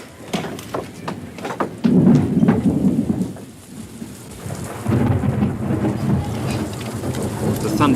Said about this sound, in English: The thunderstorm is intense,